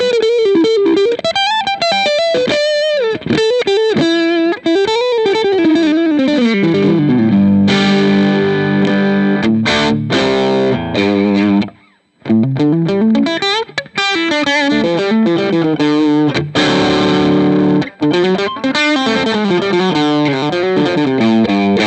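Electric guitar played through a British Copper TB30 amp preset modelled on a VOX AC30 Top Boost, using the neck pickup: loud, driven, chorus-tinged melodic lines and sustained chords, played alone with only a brief pause midway.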